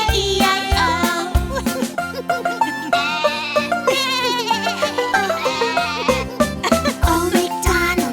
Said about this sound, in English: And on his farm he had a lamb, E-I-E-I-O.